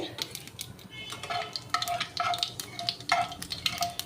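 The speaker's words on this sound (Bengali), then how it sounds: "একটু কালো জিরে দিলাম তেলের ওপরে" Nigella seeds crackle in hot oil in a pan, with a spoon scraping and tapping the metal in irregular bursts over a faint sizzle, fairly quiet and without speech.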